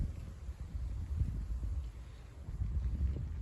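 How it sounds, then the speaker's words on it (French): Gusty wind during a March squall at Doue in Seine-et-Marne, France, buffeting the microphone as a low, uneven rumble that swells and eases over a few seconds, fairly faint, with no voices. "Ah ouais, là il y a du vent là."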